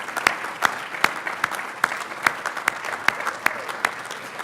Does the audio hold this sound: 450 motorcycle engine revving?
no